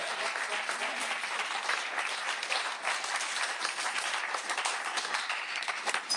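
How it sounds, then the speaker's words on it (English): Dense, sustained applause from a wedding reception crowd during a best man's speech fills the room evenly for several seconds, a thick wash of many hands clapping without pause. "Can you have a round of applause, please?"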